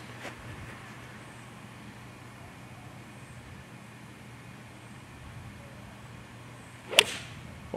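A golf club strikes a ball on a golf course: one sharp, crisp whack near the end, standing out against a low, steady outdoor hum with distant traffic noise.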